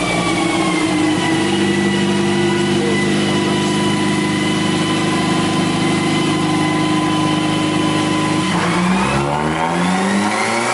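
A turbocharged Mazda 3 running on E85 roars loudly through a dyno pull, its engine tone climbing steadily before shifting and dropping, then rising again, with no talking.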